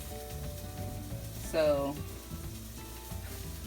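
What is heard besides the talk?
eggplant slices frying in a pan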